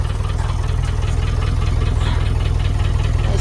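Land Rover 300 Tdi diesel engine idling with a broken rear exhaust box, the end come off and blowing, giving a steady, loud, throbbing low rumble with rapid pulsing puffs throughout, close by and without talk.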